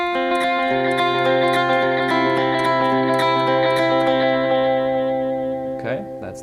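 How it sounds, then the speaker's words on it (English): An electric guitar plays the opening part of the verse riff from a song, with rapid repeated picked notes washed in delay and effects, bright and sustained before a brief fade. "that's the first part of the riff"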